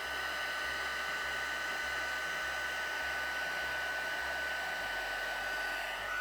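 A heat gun blows a steady, loud whooshing roar with a faint whine as it melts embossing powder on thick cotton card, continuous and unbroken with no voices.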